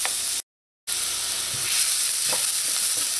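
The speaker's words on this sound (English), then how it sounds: "you just want to let your garlic also get a nice light brown color" Garlic frying with browned onions in a pan, a steady close sizzle broken by a brief dropout, with faint stirring knocks.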